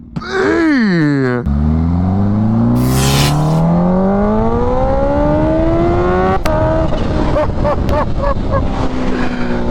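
A Kawasaki Ninja H2 motorcycle, ECU-flashed, dyno-tuned, lowered and fitted with a changed sprocket, revs loudly and pulls away close by, its engine note climbing steadily through the gears with a brief hiss and sharp clicks along the way.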